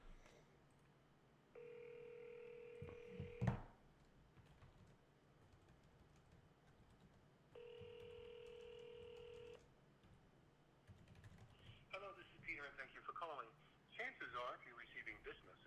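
Two long electronic telephone rings, each lasting about two seconds and separated by a pause, followed by a person starting to talk.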